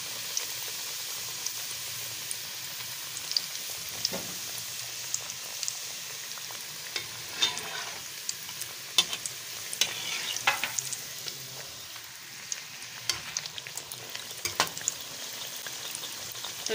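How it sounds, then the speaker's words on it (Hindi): Aloo gobhi samosas deep frying in oil, a soft, steady bubbling hiss with scattered crackles and occasional light knocks, fairly quiet throughout. "तो इस तरह से हमने इनको फ्राई कर लेना है"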